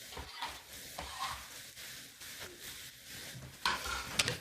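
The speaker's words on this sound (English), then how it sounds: "And now I'm going to put the whole thing into the pan. It has the shallots, the onions" Shallots, onions and mushrooms cooking in a cast iron pan, with a continuous sizzle and spatula stirring strokes, growing louder toward the end as the mixture is moved.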